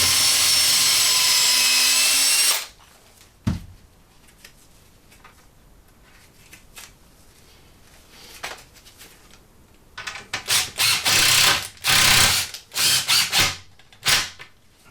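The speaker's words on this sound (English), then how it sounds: "So I'm just resting that on the other end and drilling again." An electric drill bores into a wooden frame, whining steadily for a couple of seconds, then stops; later come several short bursts of drilling separated by clunks and handling noises.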